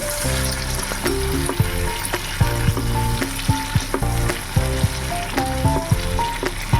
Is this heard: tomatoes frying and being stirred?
yes